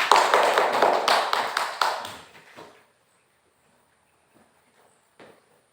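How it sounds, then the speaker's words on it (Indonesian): Students in a micro-teaching class clap for a group, a short run of rhythmic, fairly loud claps that fades out within a few seconds, followed by near silence with one faint tap. "Tepuk tangan untuk kelompok 2"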